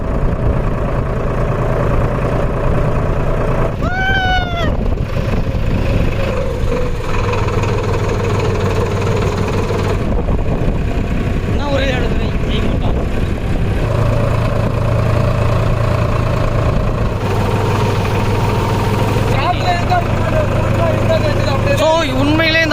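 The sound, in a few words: Farmtrac tractor engine idling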